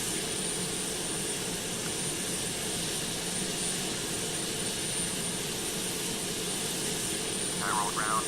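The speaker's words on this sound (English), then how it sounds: "There goes the fuel pumps." The fuel pumps run in a Boeing 767 cockpit in the Prepar3D flight simulator, making a steady broadband hum and whir that stays constant and fairly faint throughout, with no distinct starts or stops.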